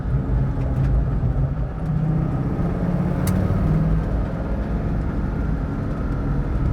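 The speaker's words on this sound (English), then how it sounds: "I'm going to shift down into second." A 1965 Ford Mustang with a V10 engine rumbles loudly and close as it downshifts into second gear, a deep steady drone that eases briefly before building again.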